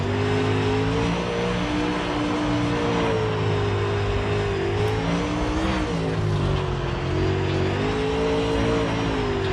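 Dirt late model race car engine in the iRacing video game, a loud continuous drone rising and falling as the throttle eases off and rolls back on, with no talk over it.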